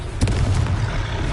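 A Confringo blast spell explodes in Hogwarts Legacy mid-battle, a loud burst near the start followed by a dense, rumbling low-end roar that carries through the rest of the moment.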